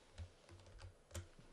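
A computer keyboard is tapped briefly to enter Control C and Control V copy-and-paste shortcuts, a few soft clicks close by with a quiet gap between them, no voice present.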